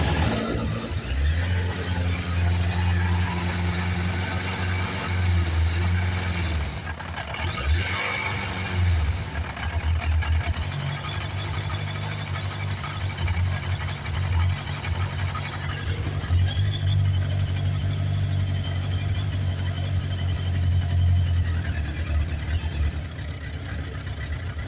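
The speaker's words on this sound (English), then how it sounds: "I have set the idle kind of low because when it's warmed up, she idles a bit high." A 1987 Suzuki GSX-R1100 motorcycle engine cranking and catching, then settling into a steady low idle that dips briefly and resumes, heard close and continuous with no talk.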